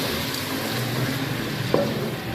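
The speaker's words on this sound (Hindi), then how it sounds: "इसको भूनना है" Lobia beans fry in masala in a pan, giving a steady, even sizzle throughout with one brief stir or clink near the end and no voices.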